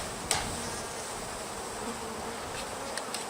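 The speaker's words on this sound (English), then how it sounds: "Our bees are starting to get pretty deep in this box now." Honey bees buzzing inside a hive box, a steady soft droning hum with a faint tap near the start, no voices.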